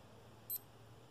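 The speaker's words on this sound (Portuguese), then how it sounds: "Cada bip é uma hora que ele vai mudando." A Speedo 80629G0EVNP1 digital wristwatch gives a single short, high electronic beep as its hour setting advances, faint and alone against quiet background.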